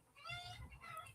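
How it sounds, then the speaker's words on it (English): Chickens scuffling outdoors, faint distant clucking and squawking calls over a low background rumble. "there's a chicken scuffle going on out there"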